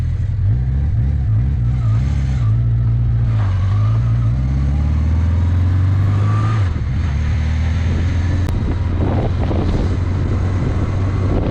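A 1982 Honda CB650 motorcycle with 1800 miles runs after decades of storage, its engine idling and revving with pitch rising and falling, close and loud, under steady wind buffeting on the microphone.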